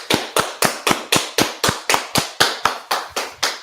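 A crowd at a Washington, D.C. gathering of the Israelite School of Universal Practical Knowledge claps in unison, giving about fourteen crisp, loud, steady beats at a brisk, regular tempo with no talking.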